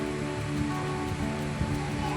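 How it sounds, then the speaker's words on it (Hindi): Steady rain pours in the Uttarakhand hills, a dense continuous hiss mixed with a low hum and faint background sounds. "बरसात एकदम बेहतरीन तरीके से होने लगी है।"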